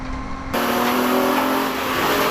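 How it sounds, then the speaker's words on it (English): A BMW M3 race car accelerates hard away from the grid at Thruxton circuit during a classic car race, its engine note rising loud and close after a brief quieter moment. "So the BMW M3 driving away there in now 6th position overall from the back of the grid in David Hickton's new car."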